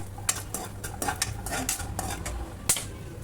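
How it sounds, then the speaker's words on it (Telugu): Cashews, raisins and nuts fried in ghee and stirred in a pan give repeated scraping and clinking of a metal spoon against the vessel in an uneven rhythm, with a soft sizzle underneath. "జీడిపప్పు, కిస్మిస్, బాదం లేదు, చియా సీడ్స్, అవన్నీ సాదా పలుకులు అవన్నీ వేయించుకోవాలి."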